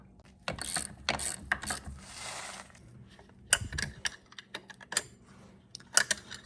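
A ratchet tightens a brake caliper bolt on a 2004 Polaris Sportsman ATV, with bursts of rapid, close clicking pawl strokes separated by brief pauses and a few clanks, and no voices.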